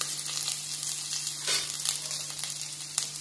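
Crushed ginger and asafoetida frying in hot oil, a soft steady sizzle with a few brief crackling bursts, fairly quiet and close, with a faint constant hum beneath.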